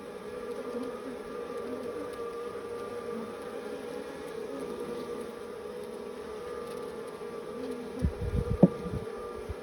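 Honey bees at an open hive with pollen being stored, a steady close buzzing drone that holds throughout, with a few louder clattering knocks near the end as the frames are handled.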